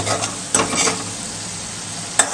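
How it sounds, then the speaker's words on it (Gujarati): Hot oil sizzles with spices for a Rajwadi dal tadka tempering, giving a steady close hiss broken by a few quick clinks of stirring. "આ વઘાર રજવાડીનો દાળ તડકા"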